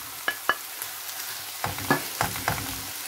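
Chicken breast going into onion frying in olive oil, a few soft sizzles and stirring scrapes that come in short bursts over a low, quiet background.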